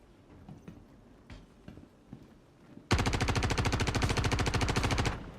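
A few scattered shots in a video game, then a loud, close automatic burst fires in a fast, even stream for about two seconds before stopping abruptly.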